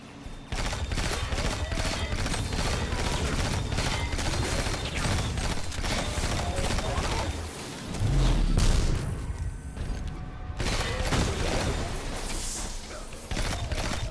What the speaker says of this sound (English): all of the chain reactions and explosions are going off